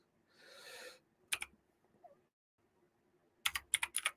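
Typing on a computer keyboard, a few short clusters of crisp key clicks close to the microphone with quiet gaps between them, preceded by a brief soft rustle.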